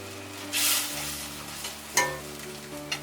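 Spices being sautéed and stirred in oil in a pan for a sour jujube chutney: a continuous close sizzle with a loud burst early on and occasional scraping strokes, no voices.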